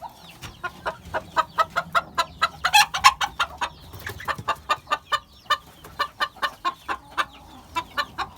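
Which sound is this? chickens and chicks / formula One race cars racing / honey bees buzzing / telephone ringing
chickens and chicks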